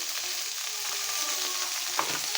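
Chopped green chilies and onions frying in oil for spicy tomato chutney, an even close sizzle with a brief spatter or stir near the end, no voices.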